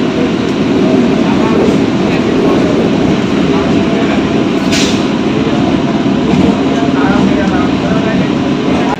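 A Kolkata local train pulls away toward Khidirpur station, a loud steady rumble and rattle of carriages heard from inside, constant throughout with a brief sharp squeal midway.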